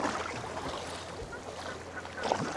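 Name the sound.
ducks quacking near a kayak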